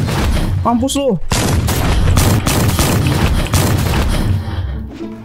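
Gunfire in the Roblox game A Bizarre Day, a loud string of heavy, booming shots at irregular intervals mixed with crashing impacts, with a brief spoken exclamation in the midst of it.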